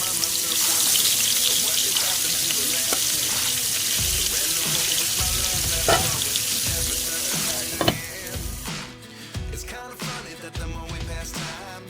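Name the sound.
fish frying in a pan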